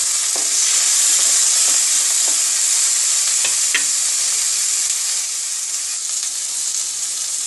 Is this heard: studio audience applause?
no